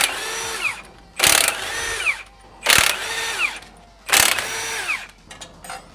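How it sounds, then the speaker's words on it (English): An impact gun loosening 18mm bolts on a Mercedes fires three sharp, loud rattling bursts about a second and a half apart, separated by quieter pauses with faint clinks. "We like to use impact guns because things go a lot faster that way"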